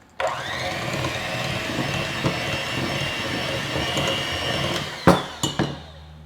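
An electric mixer whirs steadily as it beats an egg and vanilla extract into cookie batter for soft glazed pumpkin cookies, a loud continuous motor drone that cuts off, followed by a few sharp knocks of the beaters against the bowl.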